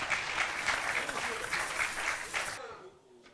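Audience applause at an official launch ceremony, a dense burst of clapping that carries steadily for over two seconds, then cuts off abruptly into near silence.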